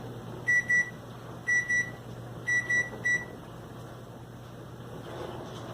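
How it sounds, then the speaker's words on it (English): An oven timer beeps during the cooking of a one-hour turkey at 550 degrees, sounding three quick groups of two or three sharp electronic beeps over a steady low appliance hum. "Timer's going off."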